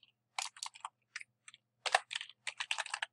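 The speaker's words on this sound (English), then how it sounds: "So I'm going to type right here" Typing on a computer keyboard sounds close and crisp, with quick bursts of clicking keystrokes broken by short pauses and a final rapid run of taps.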